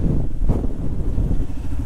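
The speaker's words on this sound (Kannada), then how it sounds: "ಇಲ್ಲಿ ಎಷ್ಟು ಜೋರ ಗಾಳಿ ಬರ್ತಿದೆ ಅಂತಂದರೆ ಬೈಕ್ ಹಂಗೆ ತಳ್ತಾ ಇದೆ ಗಾಳಿ" Strong wind buffets the microphone on Kote Betta, a foggy hilltop in Coorg, as a loud, continuous low rumble with gusty swells and no voices.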